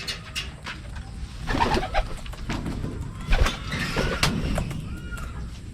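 Racing pigeons coo repeatedly at close range. Their soft, throaty calls overlap in uneven bursts over a low, busy background.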